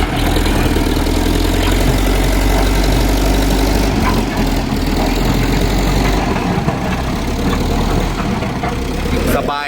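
A Komatsu JH30 wheeled long-arm excavator's diesel engine runs in a dense, steady loud drone throughout, with faint mechanical knocks and clatter on top.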